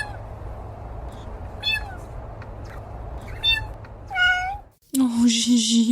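A blue jay in Florida imitates a cat, giving three separate meow-like calls over low background hum, followed by a louder, harsher cry at the end.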